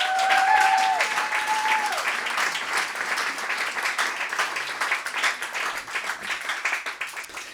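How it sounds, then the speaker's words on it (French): Audience at an intimate acoustic concert on a farm clapping warmly, a dense patter of hands continuing for several seconds after a brief sung or held tone at the start, gradually thinning toward the end. "et qu'on peut fort applaudir"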